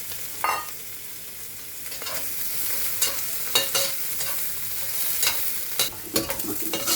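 Shrimp frying in a pan for sautéed patola, a steady close sizzle broken by frequent scraping stirs and spatula clicks, with no talking.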